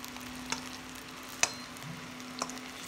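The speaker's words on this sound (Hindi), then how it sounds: "अब दूसरे साइड ले बढ़िया तल लेबो ला।" Potato pieces frying in hot oil in a pan, turned to crisp the second side: a steady soft sizzle close by, punctuated by a few light clicks of a spatula.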